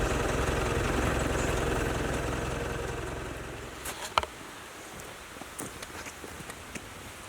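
Tractor engine running steadily for several seconds, a low continuous idle that fades gradually, followed by a few scattered clanks and knocks near a jammed log in dirt.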